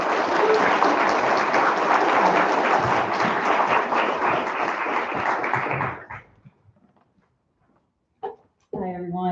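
Warm audience applause welcoming a reader at a university reading series event, steady dense clapping for about six seconds that quickly dies away to a few scattered claps, then a voice begins speaking.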